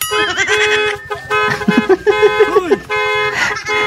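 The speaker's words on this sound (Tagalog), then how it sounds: "hataw dun sa may busina" A car horn honks in quick repeated toots on a street. It is loud and close, with an excited voice talking and shouting over and between the blasts.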